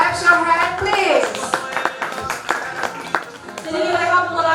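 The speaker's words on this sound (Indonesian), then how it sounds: "Kita berikan tepuk tangan sekali lagi kepada mereka." Wedding guests applauding the newlyweds at a reception, a dense burst of close clapping mixed with an MC's voice and background music.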